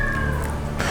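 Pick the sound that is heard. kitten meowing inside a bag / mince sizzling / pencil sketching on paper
kitten meowing inside a bag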